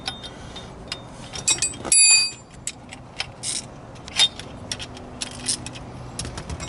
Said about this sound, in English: I got to get the steering wheel puller off, because we don't need the steering wheel puller anymore once the wheel comes off